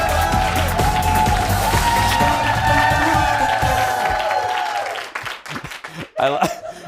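Studio audience breaks into loud applause and cheering after a commercial break, sustained clapping that fades out toward the end with a few scattered claps and voices.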